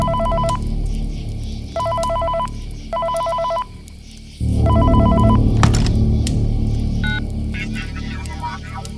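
Phone ring bursts from a Five Nights at Freddy's parody setting, four short repeated electronic ringing pulses at steady intervals, then a louder low rumbling hum and muffled voice take over with a brief tone burst near the end.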